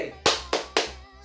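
Three sharp claps in quick succession, evenly spaced and fairly close, from a group of hands clapping together.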